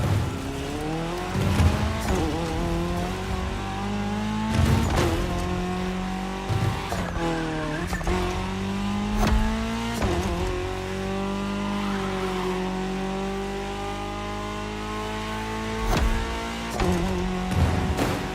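Rally car engines, including a Ford Puma Hybrid Rally 1, racing in The Crew Motorfest. The engines rev hard and rise and fall in pitch through repeated shifts, with occasional tire squeal. Loud and close, no voices.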